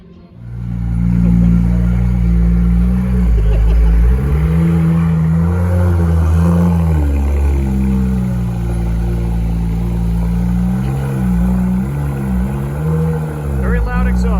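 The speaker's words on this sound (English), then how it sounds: "Very loud exhaust." A Mercedes E55 AMG W211 with a very loud exhaust revs repeatedly nearby, its deep engine note rising and falling in several blips over a steady idle, with voices talking over it at a car meet.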